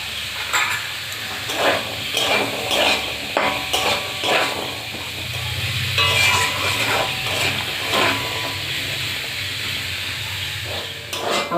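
Potatoes and carrots frying in a pan, a steady sizzle with repeated stirring scrapes and light clatter of a utensil throughout, close and moderately loud with no talking.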